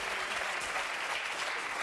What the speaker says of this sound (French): Bravo, on les applaudit très fort.